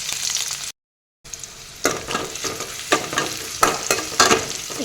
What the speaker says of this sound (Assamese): এতিয়া পিঁয়াজ আৰু নহৰু জলকীয়াখিনি দি দিছোঁ